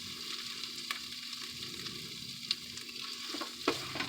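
About three-quarters of a pound of semi-frozen bacon fries in a pan, giving a steady broadband sizzle with a few small crackles and pops, close and continuous with no talking.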